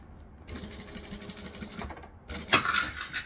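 Sewing machine restitching a seam on an Empress tote bag with a fabric panel: a quiet lead-in, then a steady close-up run of needle strokes that grows louder toward the end, with no one speaking.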